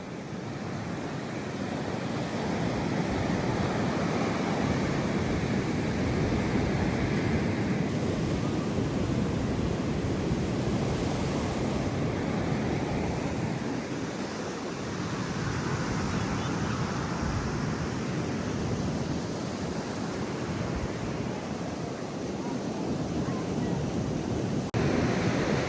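Waves on Karon Beach in Phuket, Thailand, a continuous broad roar of surf with swelling and receding washes, mixed with wind buffeting the microphone and no clear voices.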